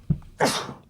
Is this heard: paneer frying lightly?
no